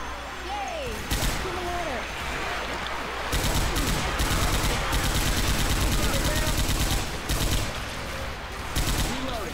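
Rapid automatic gunfire bursts in the zombie shooter Left 4 Dead 2, fast repeated shots in several volleys over game noise, while players talk.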